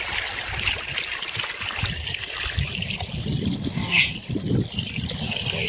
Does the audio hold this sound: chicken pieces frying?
no